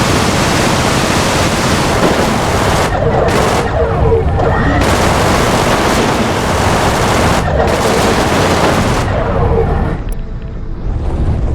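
Gatling gun fire from a spaceship in the Everspace space shooter, a loud continuous roar of rapid shots in long sustained bursts broken by short pauses before trailing off at the end.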